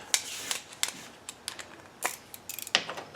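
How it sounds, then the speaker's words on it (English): Sharp clicks and ratcheting of a tool backing 8mm screws out of a lawn mower's recoil assembly, several brief bursts in quick succession, close and fairly quiet, no talk. "next we got to take off this recoil assembly, which looks like 1, 2, 3 8mm screws."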